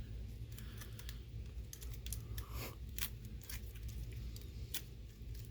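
Plastic packaging is peeled and pulled off an S.H. Figuarts Naruto Uzumaki action figure, giving close, irregular crinkles and sharp snaps over a quiet background.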